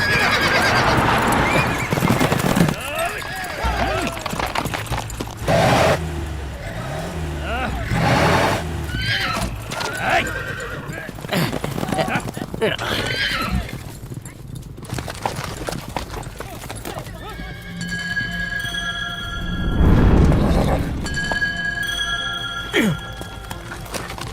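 Horses neigh and gallop during a buzkashi game, with repeated loud whinnies and thudding hoofbeats amid crowd noise and shouting voices, busy and continuous throughout.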